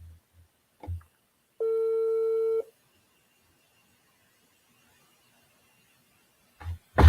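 A single long electronic phone ringback tone sounds once on an outgoing call, clear against near silence, with brief soft knocks before and after.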